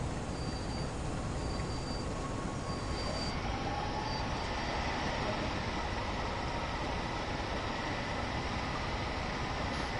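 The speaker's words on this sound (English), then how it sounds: "I wonder if they've tweaked this locomotive in the patch." A locomotive in Train Sim World runs steadily with a continuous broad rumble and hiss, even and unchanging, with no voices.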